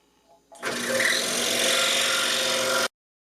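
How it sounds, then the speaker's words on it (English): A scroll saw cuts a wood inlay with the table tilted, starting abruptly and running as a loud, steady high-pitched buzzing rasp for just over two seconds before stopping dead. "So we'll do our first test cut with that."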